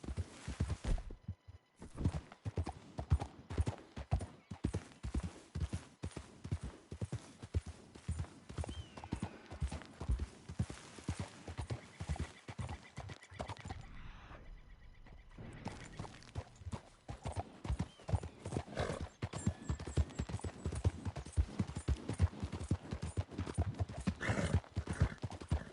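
A horse gallops in the video game Red Dead Redemption 2, with a steady, rapid rhythm of close hoofbeats that pauses briefly midway and then resumes.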